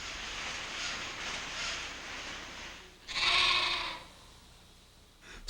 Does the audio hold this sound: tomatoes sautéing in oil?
no